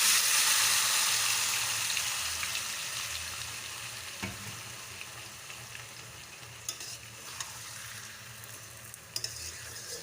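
Marinated chicken for chicken kosha is tipped into a hot wok and sizzles loudly, then softens gradually, with occasional clinks of stirring and scraping against the pan.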